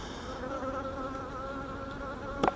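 Honeybees buzzing agitated around an opened hive, a dense droning hum that stays steady, with a sharp close knock near the end.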